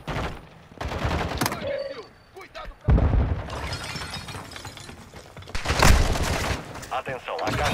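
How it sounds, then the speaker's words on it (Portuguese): Bursts of gunfire from a Call of Duty DMZ firefight crack out in several loud clusters, with rapid volleys and heavier booms spread through the clip under game noise and voices. "os caras estão dando tiro"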